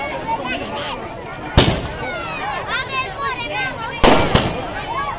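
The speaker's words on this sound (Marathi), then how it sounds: "फटाक्यांची आतिषबाजी सुरू झाली." Firecrackers and fireworks go off at a Navratri Ravan Dahan celebration, with two sharp loud bangs over steady crackling and a busy crowd murmuring throughout.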